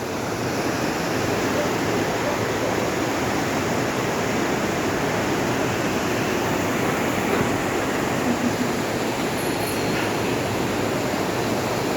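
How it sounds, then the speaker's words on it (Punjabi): The Parvati River rushes past in the mountains near Manikaran Sahib, giving a loud, steady, broadband roar of fast water close by that stays constant throughout. "ਇਹ ਦੇਖੋ ਜੀ ਇਹ ਹੈਗੀ ਨਾਲ ਹੀ ਪਾਰਵਤੀ ਨਦੀ"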